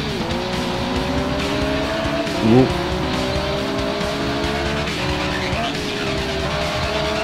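A heavy racing motorcycle in the video game RIDE, its engine droning loud and continuous with shifting pitch as it accelerates through gears, a brief tyre squeal partway, with a short spoken exclamation.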